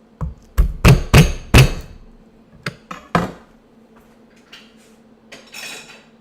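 Garlic cloves are smashed on a kitchen counter, several sharp, loud thuds in quick succession, then a few lighter knocks and faint rustling as the cloves are handled, no talk.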